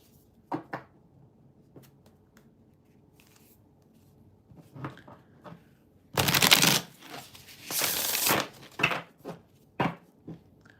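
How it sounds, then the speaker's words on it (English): Tarot cards being shuffled in a quick, crisp riffling burst, then a few lighter taps and shuffles close by, with no talking. "Let me just finish shuffling."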